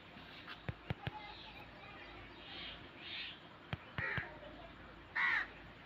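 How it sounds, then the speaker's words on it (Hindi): Crows cawing as they fly off on an early village morning, several harsh calls spaced out at moderate distance, with a few sharp knocks and faint background sounds between them. "कौवे वगैरह जा रहे हैं जी उड़ के"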